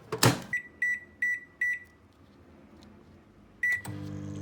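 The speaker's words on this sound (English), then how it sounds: "I hope this doesn't blow up my microwave." A microwave oven heating dry penne covered in water in a cereal bowl gives a loud thud, then four quick evenly spaced beeps, a quiet pause, another beep and the start of a low running hum.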